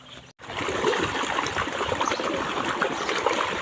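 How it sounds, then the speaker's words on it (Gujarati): Borewell water flows out on a village farm with a field and a curry leaf tree nearby. A steady, continuous rushing of water fills the clip after a brief dropout at the start, with no talking. "કેવો બોરવેલનું પાણી આવી રહ્યું છે"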